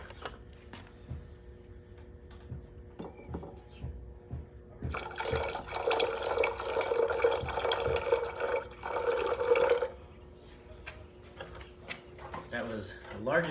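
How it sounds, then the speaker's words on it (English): Nitric acid poured into a gold refining vessel holding magnetic and junk gold, a steady liquid pour rising in the middle of the clip for several seconds amid handling noises and brief talk. "Adding some nitric acid."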